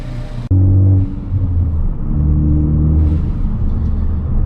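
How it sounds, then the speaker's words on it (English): A car engine idles while warming up, a steady low rumble with a brief loud burst near the start, then a lower hum with faint whirs, heard close and without voices. "Just letting car warm up just a little bit and we'll get going."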